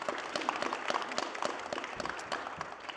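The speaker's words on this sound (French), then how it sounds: "On peut évidemment déjà les applaudir pour cette présentation." Audience applause after a presentation at a talk, fairly faint, distinct claps in a loose, uneven pattern lasting the whole clip.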